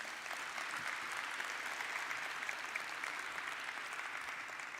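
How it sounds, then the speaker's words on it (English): Conference audience applauding for a panel, a dense, even wash of clapping sustained throughout, steady and moderately distant, with no talk over it. "can we give them a round of applause"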